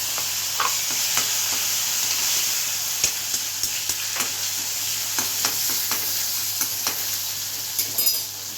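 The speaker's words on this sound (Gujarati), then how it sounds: "વઘારીશું દાળ." Dal being tempered with cinnamon, cloves, bay leaf and asafoetida sizzles steadily in a pot, with a continuous hiss and frequent light scrapes and clinks of a spoon stirring, close and without talk.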